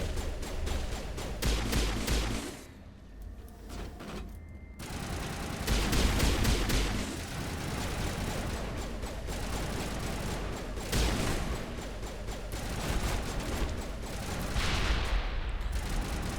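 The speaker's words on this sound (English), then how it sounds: "Why are you shooting me?" Enemy gunfire rattles nonstop during a firefight in Mass Effect Legendary Edition, dense overlapping bursts of automatic shots and heavy booms, loud and close, with brief lulls before the barrage resumes.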